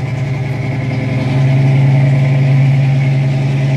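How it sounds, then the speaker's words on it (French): A cold car engine idles steadily on its automatic choke with a low, even hum that grows slightly louder partway through. No voices are heard. "Donc là la voiture est froide. Donc elle est encore sur son starter automatique."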